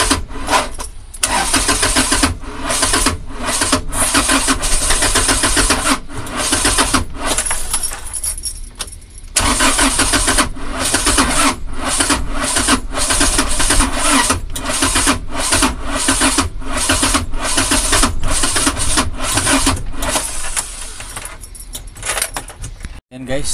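A Toyota Coaster engine in a workshop cranks and fires up, then keeps running loudly with a rough mid-pitched roar, near and sustained, with brief dips and a clattering metallic edge throughout.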